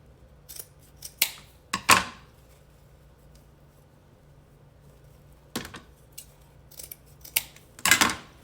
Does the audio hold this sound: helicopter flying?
no